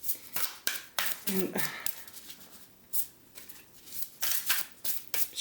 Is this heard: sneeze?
no